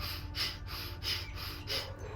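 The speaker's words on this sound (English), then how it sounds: "So Bhastrika is this forced inhale and exhale" Bhastrika breathing, forceful inhales and exhales pushed through the nostrils, about four sharp breath pulses in an even rhythm, close and fairly faint over a low background hum.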